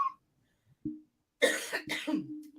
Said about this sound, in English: I'm just going to have to cough.